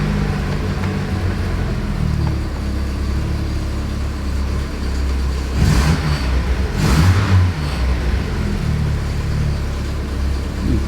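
A Saab 90 engine runs on choke after a carburettor rebuild, a steady close rumble that surges roughly twice as the revs rise briefly and settle back.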